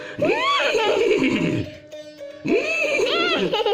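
A voice imitates a horse neighing twice, each a loud quavering whinny, separated by a short pause.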